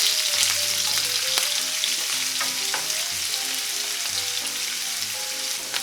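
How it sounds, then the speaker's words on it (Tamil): Finely chopped onion, a small piece of cinnamon, two cloves and a sprig of curry leaves saute in hot oil, giving a steady close sizzle with soft scraping stirs and no voices. "ஒரு சின்ன துண்டு பட்டை, 2 லவங்கம் போட்டுட்டு நம்ம பொடி அரைஞ்சி வச்ச வெங்காயம், ஒரு கொத்து கருவேப்பிலை இதை போட்டு வதக்கிக்கோங்க"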